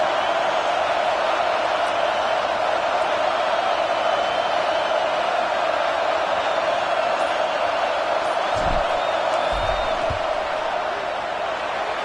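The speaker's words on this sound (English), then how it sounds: "This crowd trying to do its part to get inside the kicker's head." A stadium crowd at an Arkansas–Tennessee college football game roars steadily as the field goal unit lines up for a fourth-down kick, a dense, continuous wash of cheering and noise throughout.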